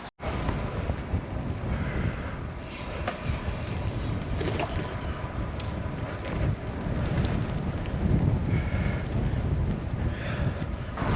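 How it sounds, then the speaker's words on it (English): Wind buffets the microphone as a cyclist rides into a headwind, a loud, steady, rushing roar that runs unbroken through the whole stretch, with no one talking. "Feels like we've got another headwind."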